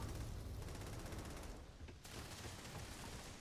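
Dense, sustained gunfire in the video game Starfield, a continuous roar of rapid shots with a brief dip before resuming, fairly quiet overall.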